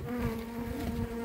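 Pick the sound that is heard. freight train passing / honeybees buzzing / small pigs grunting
honeybees buzzing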